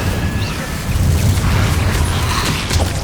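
Incendio fire spells are cast in Hogwarts Legacy, giving a continuous roaring, whooshing burst of flame with low rumbling booms and crackle that swell and hold steady for several seconds.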